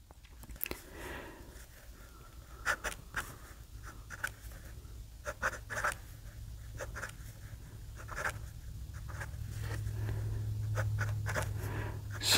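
A fountain pen with a steel nib scratches across paper in quick, irregular bursts of strokes, close and fairly faint, with a low background hum swelling toward the end.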